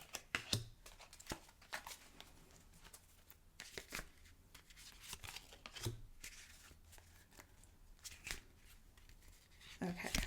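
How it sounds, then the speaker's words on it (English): Tarot cards being shuffled and drawn, quiet close crisp riffling and flicking with soft slaps and clicks in irregular bursts, while a person talks softly. "I'm going to start by drawing 3 cards for the week ahead."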